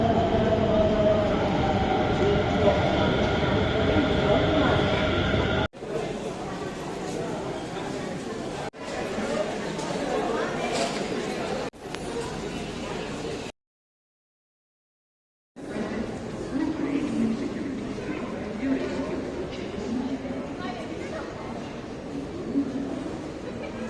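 A Delhi Metro train carries a steady rumble with rail noise and passenger chatter for the first stretch. Then comes a choppier section, a brief total dropout, and a return to ongoing train interior sound mixed with voices.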